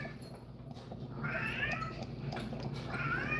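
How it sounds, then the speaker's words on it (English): A cat meows twice, drawn-out and somewhat distant, over a steady low background hum, indoors during fly tying. "You might hear a cat in the background"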